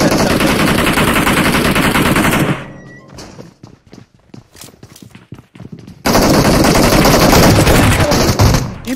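Rapid automatic gunfire in a battle royale mobile game during an in-game tournament qualifier match, loud sustained bursts, then a sparser stretch of single shots and thuds before heavy continuous firing resumes.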